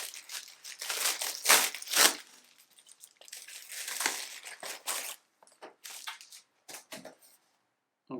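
Generic cardboard and plastic packaging of a Winkoox 4K HDMI-to-USB 3 capture card being opened by hand, with close crinkling, crumpling and tearing in uneven bursts separated by short pauses.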